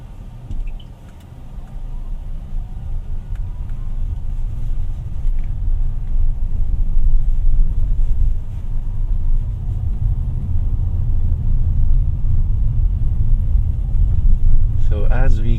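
A 2023 Toyota Yaris Cross 1.5 hybrid coasts downhill. A steady low road rumble and soft cabin drone fill the recording, and a voice speaks inside the car.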